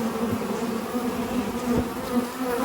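A dense, steady buzzing of many honey bees swarming close by during a hive inspection, a continuous droning hum with no voices.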